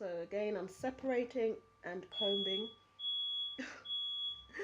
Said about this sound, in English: So that was my fire alarm